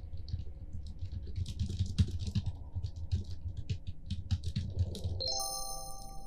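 Rapid keyboard typing in a horror video game set at a game company, a close, steady patter of key clicks that ends in a short electronic chime.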